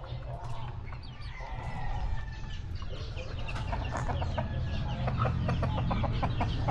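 Backyard chickens clucking close by, a run of short repeated clucks and calls over a low background rumble, with no talk.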